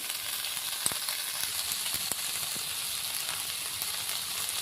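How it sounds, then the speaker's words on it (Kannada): Jowar grains frying with onion in a pan, a soft, even sizzle throughout with a few sharp clicks and pops, nothing else over it. "ಅದಕ್ಕೆ ಜೋಳನ ಹಾಕ್ಕೊಳ್ಬೇಕು ಸ್ವಲ್ಪ ಜೋಳ ಫ್ರೈ ಆಗಲಿ"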